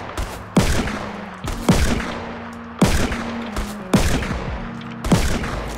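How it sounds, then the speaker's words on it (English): Gunfire trading back and forth in the PC battle royale game Fortnite: five loud, sharp shots spaced roughly a second apart, each with a ringing tail, over a low steady hum, with no talking. "Were we like trading shots there?"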